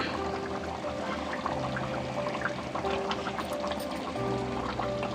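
Coconut paste poured into a simmering sardine fish curry, a steady soft liquid pouring and bubbling texture that runs continuously at moderate level with no talk.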